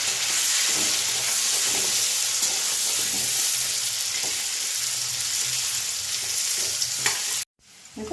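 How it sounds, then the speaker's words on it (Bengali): Potatoes fry in oil in a pan for a curry, a loud steady sizzle with stirring scrapes close by, cutting off abruptly near the end. "এবার আলুগুলো দিয়ে দিচ্ছি আলুগুলো একটু ভেজে নেবে"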